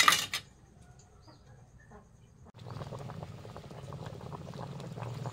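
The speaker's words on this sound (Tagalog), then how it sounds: "Mga kapangit, kumulo na siya." Stingray stew in coconut milk comes to a boil in a pot, starting with a brief clatter and quiet stretch, then a steady bubbling, gurgling simmer building up for the rest of the clip.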